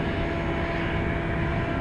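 An aircraft departs Dublin Airport for Perpignan, producing a steady, loud broadband engine roar with no break over the short span.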